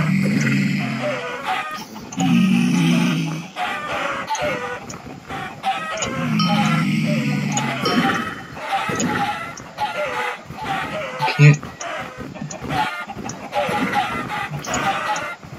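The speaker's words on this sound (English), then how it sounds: "it's kind of fun shooting chickens" Chickens cluck in a Minecraft Mineplex Nano Game at night, repeated close bursts of clucking and fowl sounds mixed with game effects while a person talks over them.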